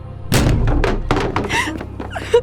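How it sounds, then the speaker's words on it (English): Binder slammed shut in a classroom, followed by someone standing abruptly and grabbing a bag: a firm thunk, then scattered thuds, rustles and shuffling, close and fairly loud, with no talking. "every student turned to see Cassie slam the binder shut, standing abruptly, grabbing her bag, and leaving"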